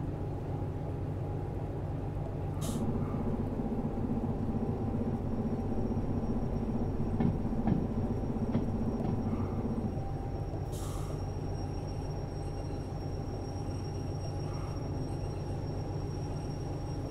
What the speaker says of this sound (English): This train really likes to move on its own, doesn't it?